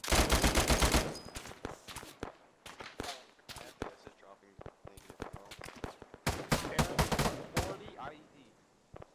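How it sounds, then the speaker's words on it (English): Gunfire in the military simulation game Arma 3, with bursts of rapid automatic fire and scattered single cracks, some close and loud, others fainter, under urgent voices of players. "A shot from the left."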